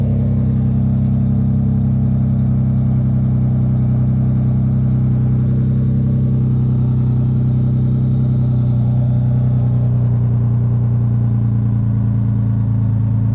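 Steady, loud, low idle from a 2011 Ford F-150 3.5 EcoBoost V6 through a Banks exhaust, droning evenly at close range with a slight shift in tone near the end.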